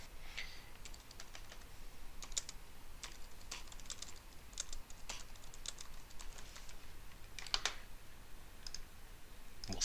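Keystrokes on a computer keyboard as a short note is typed at a desk, a steady run of light clicks in uneven bursts with brief pauses, close and alone over faint room hiss.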